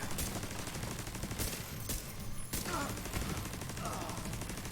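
Pistol fire in a first-person video game, several sharp single shots spread out over a dense, steady background of game noise and ambience, fairly quiet overall.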